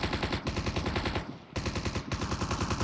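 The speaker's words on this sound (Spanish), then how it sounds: "Están disparando, pero no sé ni de dónde ni a quién" Rapid automatic gunfire in Call of Duty Mobile, loud continuous bursts of fast shots with a brief pause in the middle before the firing resumes.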